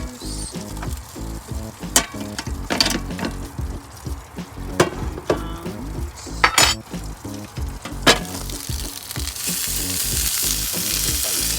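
Mushrooms sizzle in a pan inside a camper van, a soft steady frying hiss broken by sharp clinks and scrapes of a utensil against the pan, close and with no talking.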